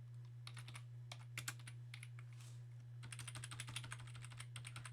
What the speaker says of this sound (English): I'm going to type in my original equation.